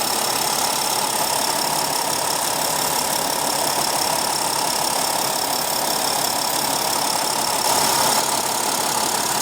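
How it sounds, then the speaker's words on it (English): A 2015 Mercedes-Benz GL350 with a 3.0 L turbo diesel V6 idles in a steady, even hum with a faint clattery knock, continuous and close, with no voices. "But this turbo diesel is a very refined and powerful powertrain"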